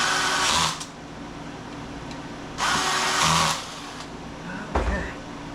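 Bolts being tightened on a Vevor TV stand, two short whirring bursts from a powered driver with a few small clicks and knocks in between, close in a quiet room with no talking.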